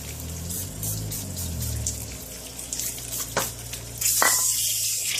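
PB Blaster penetrating oil hisses from an aerosol can onto a car throttle body, short sputtering bursts early on, then a sharp sustained spray near the end.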